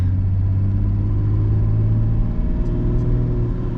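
A 1989 BMW 524td with an older turbodiesel engine accelerates on a city street, its deep engine rumble building steadily with a low droning hum close by, no talking.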